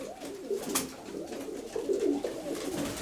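Fancy pigeons coo inside a partitioned attic dovecote, soft repeated rolling calls rising and falling close by, several birds overlapping without pause.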